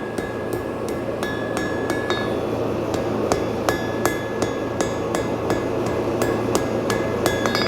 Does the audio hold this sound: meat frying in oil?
no